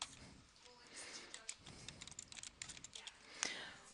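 Fingers tap a computer keyboard in a quick, uneven run of soft clicks, faint and close, with a slightly louder keystroke near the end.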